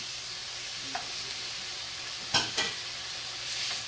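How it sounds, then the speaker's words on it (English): Pancetta sizzles softly in a pan as a constant faint hiss, with a few louder scrapes and clatters from stirring near the middle and end, and no talking. "And now I'm putting the pancetta back in."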